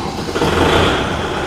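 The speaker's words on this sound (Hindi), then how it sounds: "तो कुछ इस प्रकार का ट्रैक्टर साउंड है" A Kubota 5502 tractor engine idling in neutral, a loud, steady diesel rumble close by, continuous and even with no speech.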